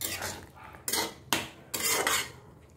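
Spices and mushrooms being stirred in a pan, with three or four sharp, bright scrapes and clatters of a utensil against metal in uneven rhythm, close and moderately loud, no talking.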